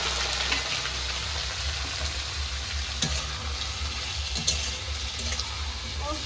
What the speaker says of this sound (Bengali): কড়াইতে সবজিগুলো ভেজে নেব